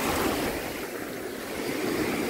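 Sea waves washing ashore at sandy Belek beach in Antalya, Turkey, a steady broad rushing surf with a light breeze, heard close and without talk.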